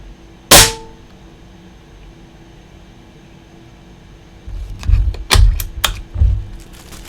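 A Marauding Bison .177 air rifle fires a slug at a paper target: one sharp close crack, a quiet pause, then a cluster of clattering knocks and low thumps.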